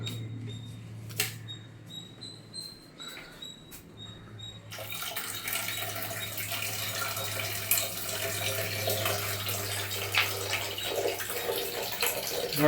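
A bathroom water tap runs steadily for a cat to drink, its splashing stream becoming louder and fuller partway through, with a faint low hum underneath and a few small clicks early on.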